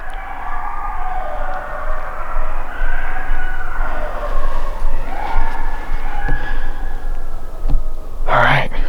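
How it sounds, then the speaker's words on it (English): Coyotes calling close by in the early morning during a Rhode Island turkey hunt, a long wavering chorus of yips and howls over steady background noise, with a short sharp burst near the end. "As you can hear, we got song dogs close to us."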